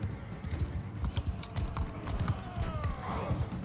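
Horse galloping in the video game Mount & Blade II Bannerlord, a steady rapid clip-clop of hooves throughout, moderately close, with a faint whinny-like sweep near the end.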